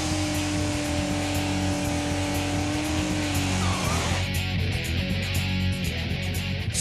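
A hot-rodded Mustang accelerates away with a loud, rumbling engine roar that rises and shifts, joined by brief tire squeal as it pulls off.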